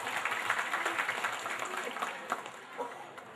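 An audience at an Islamic sermon gives a loose round of applause that is moderately loud and sustained, then tapers off with a few scattered claps.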